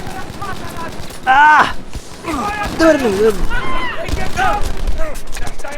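Rapid bursts of gunfire in Battlefield 5 crackle through the mix while a person keeps talking over the action.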